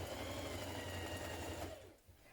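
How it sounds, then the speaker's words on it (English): A sewing machine stitches a front waistband to a back casing for a co-ord set, a steady fast mechanical whirr running close and clear before cutting off near the end. "Now stitch your front waistband to your back casing, leaving an opening between the small dots."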